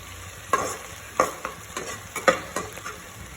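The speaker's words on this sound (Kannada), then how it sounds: "ಈರುಳ್ಳಿನ ಕಂದು ಬಣ್ಣ ಬರೋವರೆಗೂ ಫ್ರೈ ಮಾಡ್ಕೋಬೇಕು." Onions frying in a pan for palak chicken biryani, a soft sizzle broken by several scraping stirs of a spoon, close and clear with no voices.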